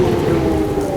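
Rain falls steadily during a thunderstorm outside an old village shop, a dense, low rumbling wash of water that stays loud and continuous throughout, with no voices.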